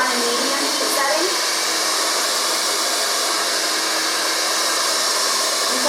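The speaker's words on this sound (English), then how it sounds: "As the hair starts to get more dry, I put it on a medium heat setting" A hair dryer on a medium heat setting blows steadily while a barber dries a client's hair for a modern style cut. The airflow gives a loud, constant broadband whoosh that holds for the whole stretch with no breaks.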